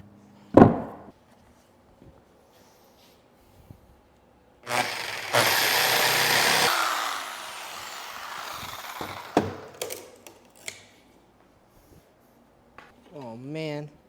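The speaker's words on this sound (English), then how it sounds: "my jigsaw ended up running a whole lot" A jigsaw cutting through a live edge wood slab runs in a steady loud burst of about two seconds midway, with a sharp knock at the start and scattered clatter and handling noises around it.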